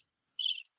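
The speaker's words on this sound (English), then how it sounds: "You get the crickets." A cricket chirping sound effect played from a soundboard, short bright trills repeating, clear and alone with no talk.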